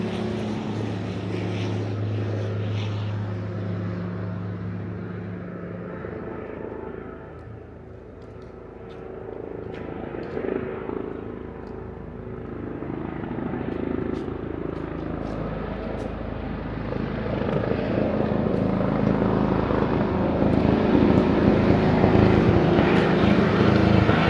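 Small propeller airplane taxiing back to the hangar: a steady engine drone close by, dipping briefly mid-way and then swelling louder with rushing wind noise toward the end.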